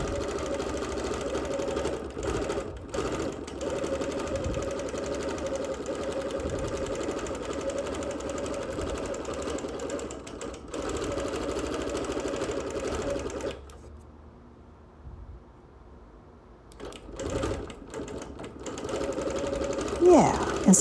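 A sewing machine quilts across wool in long, continuous runs of steady motor hum and needle chatter, pausing briefly around the middle before starting again.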